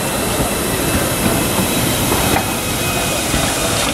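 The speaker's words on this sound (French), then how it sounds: "Tramway du Mont Blanc." Tramway du Mont Blanc train running on its rails near Chamonix, a loud, steady rumble with wheel hiss and rail noise throughout, close by.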